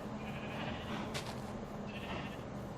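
Sheep bleat in modded Minecraft, a few short bleats over a faint background, heard quietly and on their own.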